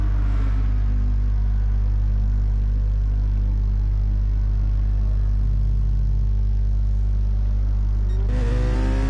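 Rally cars with Citroen engines leave the pits, a loud continuous low engine roar and rumble that holds steady, then rises with revving near the end.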